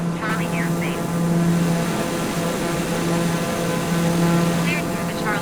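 A propeller airplane in a flight simulator climbs after takeoff on the Kathmandu to Lukla route, its engine making a continuous loud droning hum with a steady pulsing throb throughout.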